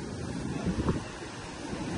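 Strong typhoon wind and waves batter a shoreline in a steady, roaring wash of noise, with heavy wind buffeting the microphone and no voices heard.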